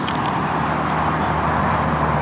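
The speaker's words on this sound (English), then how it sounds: "sorry for the road noise and the mic noise." Steady broadband road noise inside a Ford Transit van rumbles and hisses without a break, like tires rolling along pavement at speed.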